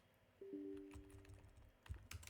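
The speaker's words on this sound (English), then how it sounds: "I'm just gonna keep like typing this out." Faint, sparse keyboard clicks tap out a few keystrokes over a quiet room with a brief low electronic tone.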